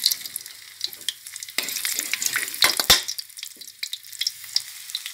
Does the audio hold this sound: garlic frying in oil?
yes